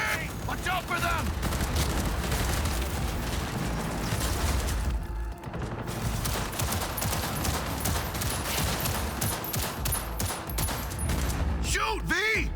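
Sustained gunfire in the video game Cyberpunk 2077, with continuous heavy bursts of shots and booming impacts from a close firefight, and voices shouting over the shooting throughout.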